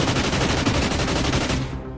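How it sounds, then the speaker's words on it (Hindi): A medium machine gun firing rapidly in a continuous fast burst of closely spaced shots, loud and dense throughout, cutting off abruptly near the end. "यहां से वो मीडियम मशीन गन से ताबड़तोड़ गोलियां चला रहा था।"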